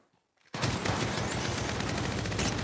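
Sustained automatic gunfire from the video game Apex Legends Mobile bursts in after a brief near-silence, a loud, continuous rattle of rapid shots that runs to the end.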